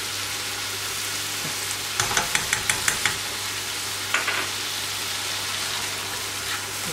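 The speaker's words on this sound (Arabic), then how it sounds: "نقليهم مع هذا البصل." Onions fry in a pan while a fish tajine is prepared, giving a steady loud sizzle with a brief run of sharp utensil clicks from stirring partway through. No one speaks.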